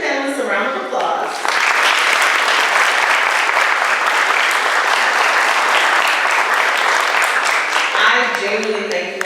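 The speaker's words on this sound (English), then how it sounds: "let's give the panelists a round of applause" Audience applause for a panel at a community forum: after a brief spoken line, a full room breaks into sustained, even clapping that holds strong for several seconds before a voice returns over its fading end.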